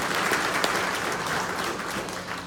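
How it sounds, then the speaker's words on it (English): Guests at a political dinner give a brief burst of dense, steady applause that fills the whole moment. "Round of applause for my Mr. Flynn."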